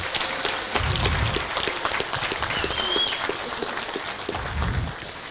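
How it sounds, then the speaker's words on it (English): Sustained crowd applause honoring a CIF Division 7 championship team, dense and steady, with scattered individual claps standing out. "Let's give them another round of applause."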